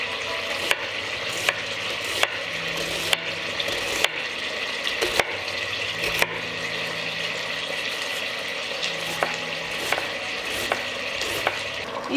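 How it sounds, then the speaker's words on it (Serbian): Schnitzels fry in a pan with a steady, close sizzle that runs throughout, while sharp periodic knocks and clicks cut through at regular intervals. "Dok se šnicle prže, za to vreme iseckat ću 2 glavice crnog luka."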